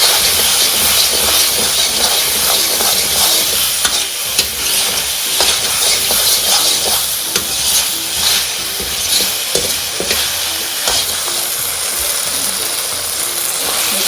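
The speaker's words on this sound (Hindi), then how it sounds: "जो ग्रीन वाली अनियन जो ले ली हैं हमने, इसको आपने स्टर फ्राई करना है for 2 minutes on high flame." Green onions stir-fried over a high flame for chicken chow mein sizzle and hiss loudly and continuously in the pan, with repeated scraping and tossing strokes of a utensil clattering through the steady frying.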